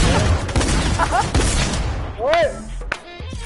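Bursts of gunfire from the video game Maula Jutt crackle in quick fusillades, mixed with game effects and voices talking over the shooting.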